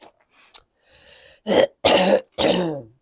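A person with a sick bug clears their throat and coughs in a few close, loud bursts, separated by short pauses.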